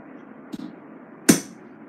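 Hammer tapping a steel chisel while forging an iron latch hook, a faint light tap followed by one sharp, loud metallic strike that rings briefly, with steady low background noise.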